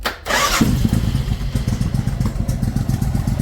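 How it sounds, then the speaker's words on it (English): A Suzuki Intruder 1400 motorcycle, its carburetor recently cleaned and the engine still warm, cranks and then catches. It settles into a loud, close, low-pitched idle that throbs steadily with a pulsing beat. "I just want to start the bike for you"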